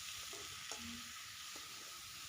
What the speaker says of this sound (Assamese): মাংস আৰু আলুখিনি এতিয়া অলপ ভাজি ল'ম।